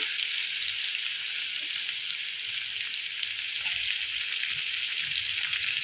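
Curry leaves sizzle in hot oil while cooking okra curry, a steady close hiss and crackle of frying that continues evenly with no voices.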